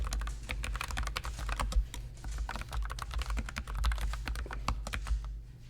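Fast typing on a computer keyboard while writing Rails test code: a steady, close patter of crisp key clicks, uneven in rhythm, with occasional slightly heavier strokes and no pauses.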